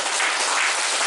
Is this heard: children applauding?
yes